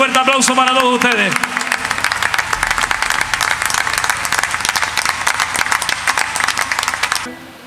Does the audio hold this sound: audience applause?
yes